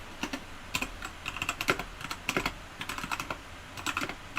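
Fingers tapping on a gaming PC computer keyboard in steady, uneven bursts of crisp clicks, close and clear with no talking.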